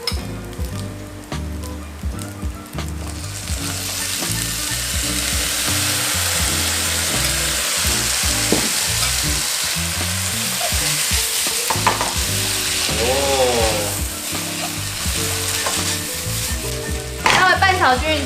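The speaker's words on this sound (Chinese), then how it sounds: "稍微拌炒均匀之后啊" Glass noodles and golden shiitake mushrooms are stir-fried together in a pan for a vegetarian tofu 'ants climbing a tree' dish, giving a loud, steady sizzle with scraping stirring strokes throughout and no talking.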